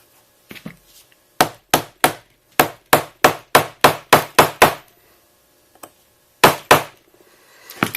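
A smash or star rivet is struck repeatedly with its setting tool, about a dozen sharp, loud hammer blows in a quick even run, a pause, then two more hits, close by with no talking.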